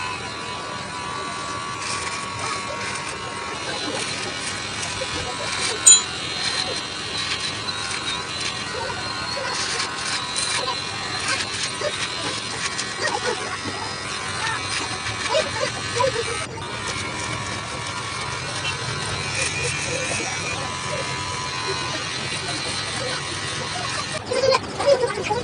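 A Dizo electric hair and beard trimmer runs with a steady buzzing hum throughout, close to the mic, with faint handling noise and brief clicks and no clear talk.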